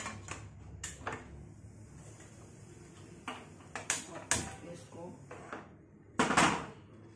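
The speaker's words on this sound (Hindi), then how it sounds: "कुकर पर लगा देंगे ढक्कन हम।" A series of metallic clinks and clacks as a pressure cooker lid is handled and set in place, ending with a louder scraping clatter; a voice speaks quietly.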